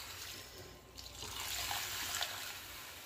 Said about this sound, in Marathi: आता हे जे सगळं पाणी आहे ना ते टाकून घ्यायचं